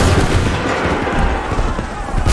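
A thunderous musket volley erupts in an Assassin's Creed 3 battle, a dense continuous roar of overlapping gunfire that stays loud and close for the whole moment with no pause.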